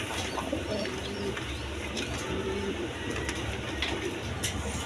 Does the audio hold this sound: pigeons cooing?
yes